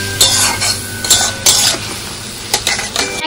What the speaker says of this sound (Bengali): ভালো করে কষিয়ে নেব, সামান্য জল দেব, এটাকে ভালো করে একটু নেড়ে নিই